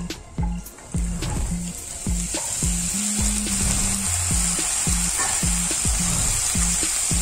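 Broccoli sautés in oil tempered with cumin, a loud steady hiss with repeated rhythmic thumps and scrapes of stirring in the pan, close by and without speech.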